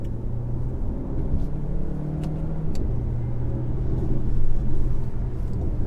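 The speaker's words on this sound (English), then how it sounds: "there's a car coming" A steady low engine rumble fills the clip from inside a moving Alfa Romeo Tonale on a narrow, twisty road. Outside road noise builds slightly toward the end as another car draws near.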